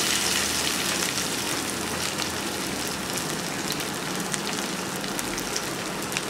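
Garlic and dried red chillies sizzle in hot mustard oil for achari begun bhaji, a dense, continuous crackling fry that holds at an even loudness from start to finish.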